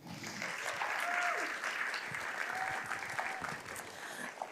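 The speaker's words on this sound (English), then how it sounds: "please give a warm welcome and a round of applause to Ashley Gordon." Audience applause welcomes a speaker to a lightning talk, sustained many-handed clapping that fades slightly toward the end, with faint whoops or murmurs underneath.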